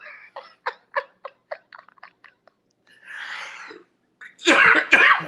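A run of quick, short rhythmic bursts that trail off, then a breathy rasp and two loud coughing fits close to the listener.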